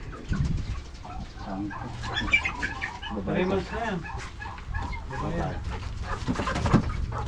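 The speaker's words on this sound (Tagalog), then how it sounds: "inuhuli na ang inyong manok" Rhode Island Red chickens, about three months old, cluck and murmur continuously nearby, with people talking over the flock throughout.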